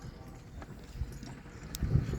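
Hooves of a Suffolk horse pulling a Dorset-style wagon, a few faint clip-clop steps against outdoor background noise, getting louder toward the end.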